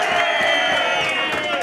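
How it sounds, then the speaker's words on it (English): Darts crowd cheering and roaring for player Greg Batten, a dense continuous wash of many voices at steady loudness throughout. "the crowd getting right behind Greg now"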